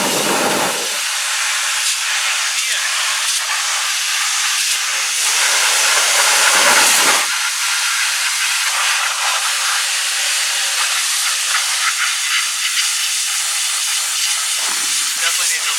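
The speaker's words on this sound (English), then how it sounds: "Today we're reviewing the Ryobi electric power washer." A Ryobi electric power washer sprays a tire with a steady, loud broadband hiss. The spray runs nearly without a break for about sixteen seconds and dips only briefly a few times.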